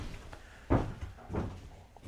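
A door on an Amazon Prime delivery van being worked, two muffled thumps about half a second apart, close and moderately loud, with no talk.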